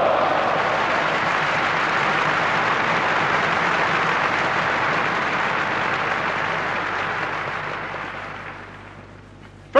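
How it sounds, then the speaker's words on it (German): A large crowd applauds a speech at the Berlin Sportpalast, a dense roar of clapping that holds strong, then fades toward the end before a sudden sharp burst. "Applaus"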